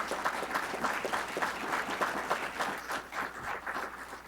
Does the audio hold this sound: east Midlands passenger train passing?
no